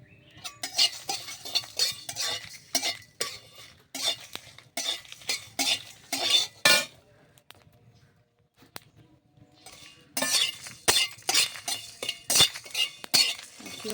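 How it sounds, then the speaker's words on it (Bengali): Panch phoron spices are roasted in a wok for a mango pickle, with rapid rhythmic spatula strokes scraping and clinking against the metal. A faint sizzle runs underneath, the stirring pauses for a few seconds midway, and no one talks. "পাঁচফোড়নটা দিয়ে ভালোভাবে ভেজে নেব।"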